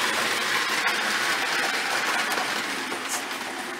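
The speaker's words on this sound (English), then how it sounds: "It's a nice looking train. Let's just leave it do its thing." A steady, continuous rumbling hum of a Marx Cape Canaveral Express toy electric train running along a track, unchanging and fairly close, with no voices.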